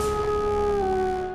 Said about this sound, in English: and howling at the moon.